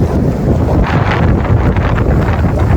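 Strong wind of about 65 mph buffets the microphone on a lakeshore while fishing, a loud continuous rumbling roar with gusty surges and no break, close and dominant throughout.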